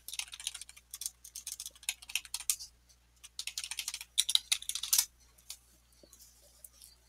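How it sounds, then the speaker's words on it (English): Rapid clicking of a computer keyboard as a location is typed into a map search box, several bursts of keystrokes separated by short pauses, close and clear with no talking. "Just type your location here in the box."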